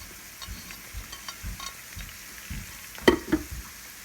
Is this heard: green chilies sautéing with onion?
yes